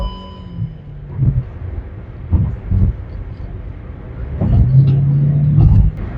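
Steady engine and road rumble from an IVT-equipped car accelerating on a highway, with a low droning tone that swells and rises toward the end, heard from inside the cabin.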